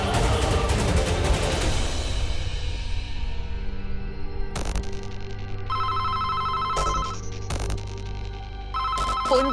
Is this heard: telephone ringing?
yes